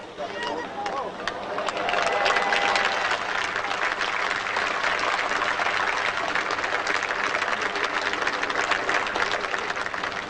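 A golf gallery at the 1982 Australian Open at The Australian Golf Club breaks into sustained, dense applause for Nicklaus's second shot into the par-5 18th. The clapping is close and builds within the first couple of seconds, with commentary over it.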